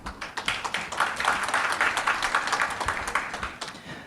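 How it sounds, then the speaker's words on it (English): Audience applause at an ASEAN conference on plastic pollution, a moderate burst of many hands clapping in a hall, fairly even and continuous before fading out. "please give them a big round of applause."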